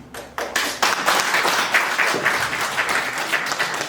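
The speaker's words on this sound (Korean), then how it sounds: "이영호 의원님께 다시 한번 저희 큰 박수를 부탁드리겠습니다." A lecture audience at a local constitutional law class applauds, a crowd clapping continuously, loud and close, with no speech over it.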